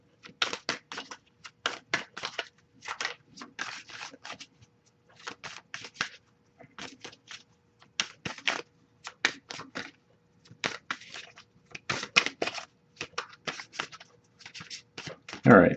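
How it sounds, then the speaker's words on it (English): Oracle cards being shuffled by hand in repeated quick riffling bursts with short gaps between them, close and crisp, with no talking during the shuffling. "Another few shuffles."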